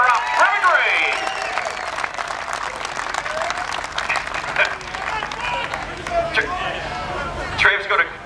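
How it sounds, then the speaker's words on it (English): Crowd applause for the runner-up at a sprintcar trophy presentation at Warrnambool, outdoor clapping and cheering that swells and fades with shouts and whistles, crowd voices chattering through it. "Trev's got a pretty good applause."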